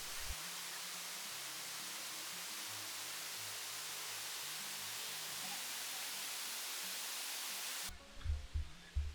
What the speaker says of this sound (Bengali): তিনটে ধাপে এই ঝর্ণাটা নেমে আসছে।